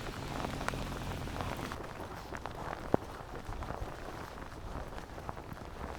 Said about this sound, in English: I hope this rain just chills out just a little bit